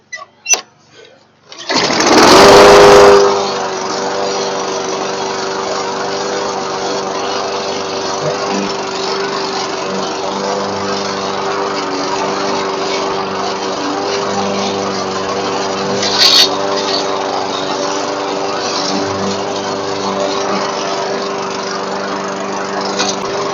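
A Craftsman walk-behind lawn mower with a Tecumseh engine, started after sitting over winter, roars to life after a brief pull and then runs steadily and loudly at a constant idle for the rest of the stretch.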